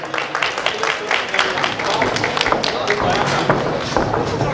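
Audience applause for the winning pizzeria at a Marklowice town festival pizza contest, a short burst of clapping mixed with crowd noise and overlapping voices.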